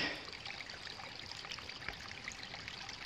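Steady rushing and splashing of a small waterfall over rocks on the Appalachian Trail near West Baldpate Peak, a continuous close trickle and pour with no voices.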